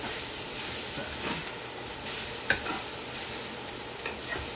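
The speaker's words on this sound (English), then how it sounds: "I'm going to stir that garlic in with the rest of the food" Confit garlic stirred into gluten-free beef and broccoli lo mein in a hot pan, a steady soft sizzle and hiss with occasional utensil clinks against the pan, one sharper knock midway, and no talking.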